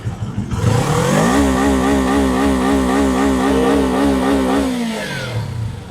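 A QJ Motor SRK 250 RA motorcycle engine is revved up and held steady at launch-control limit around 7,000 to 8,000 RPM, a loud, close, buzzing drone with slight wavering that holds for several seconds and then drops back to idle.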